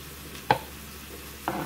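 Pork chops browning in a pan, with a faint steady sizzle broken by two sharp utensil knocks about a second apart.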